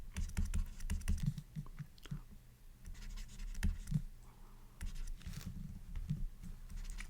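Marker or chalk writing on a board during a lesson on types of solids: quiet, close scratchy strokes and taps in irregular bursts with short pauses between them, with no speech.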